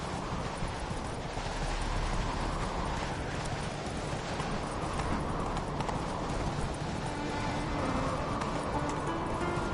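Horse hooves gallop in steady, rapid clip-clop from a mount ridden at speed in The Witcher 3 video game, filling the whole stretch continuously, loud and close, with a constant rushing bed of ambient noise.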